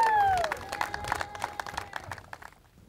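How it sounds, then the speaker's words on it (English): A crowd's round of applause at a Dr. King memorial march ceremony in Abilene, scattered claps tapering off quickly over a few seconds after a brief tone. "Give him a round of applause."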